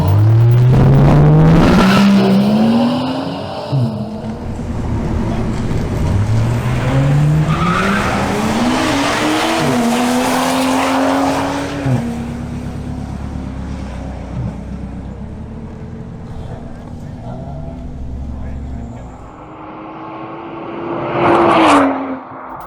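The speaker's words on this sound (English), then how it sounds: "We begin with a duel between Angel Molina's BMW M340i xDrive and Miguel Palencia's BMW M440i xDrive." A BMW M340i xDrive and a BMW M440i xDrive drag racing over a quarter mile: loud engines rev and climb through repeated gear changes, tires squealing at launch, sustained roar fading slightly before a brief burst near the end.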